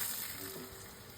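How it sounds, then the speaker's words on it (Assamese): Food frying one piece at a time in a small iron wok over a gas flame while making litti chokha, a soft, steady sizzle close by with no talk. "এটা এটাকৈ ভাজিছোঁ"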